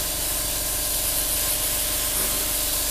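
An airbrush spray gun lays a gentle flat coat over a Revell 1/48 F-15E Strike Eagle model kit, giving a continuous, even, close hiss that runs unbroken throughout with no talking.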